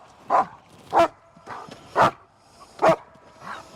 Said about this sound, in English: I said, can't you do something with that dog?